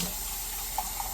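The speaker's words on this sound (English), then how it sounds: "wash the mug out" Kitchen tap running water into a mug while it is rinsed out, a brief steady splashing rush with small sloshing accents, no talking.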